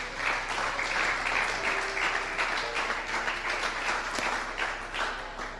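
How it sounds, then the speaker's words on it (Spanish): Loud, sustained applause from a congregation at a Spanish-language church teaching session on spiritual warfare, with dense clapping filling the clip evenly from start to finish. "¿Cuántos aplaudan su nombre?"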